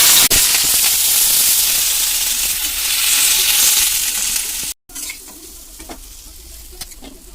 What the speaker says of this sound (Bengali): তেল গরম হলে এবার পটলটা দিয়ে দিতে হবে